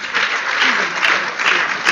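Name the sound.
audience applause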